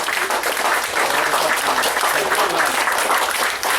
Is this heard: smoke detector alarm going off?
no